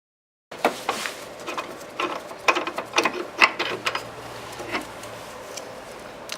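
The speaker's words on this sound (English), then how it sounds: "you want to get a 15mm to remove this motor mount" A ratchet with a 15mm socket working a motor mount bolt loose on a Volvo V8, giving quick bursts of close, crisp clicking with brief pauses between strokes and no talking.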